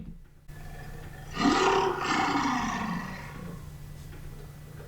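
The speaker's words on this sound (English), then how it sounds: "you did hear what sounded like a big cat, like a lion or tiger roaring" A big-cat roar sound effect plays from a Mac computer during an operating system installation: a single loud, rough roar lasting about two seconds, rising then trailing off, over a faint steady hum.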